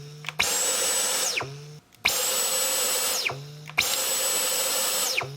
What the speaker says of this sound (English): It should normally sound like this.